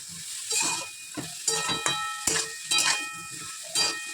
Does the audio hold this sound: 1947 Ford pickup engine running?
no